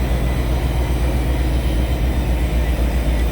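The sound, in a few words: exo commuter train locomotive at Mascouche station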